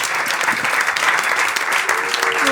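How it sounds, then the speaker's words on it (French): A comedy club audience applauds the judges at a Paris show, thick continuous clapping from a packed room, loud and sustained with some cheering mixed in. "Est-ce qu'on peut applaudir avec un tonnerre d'applaudissements Urbain et Antec?"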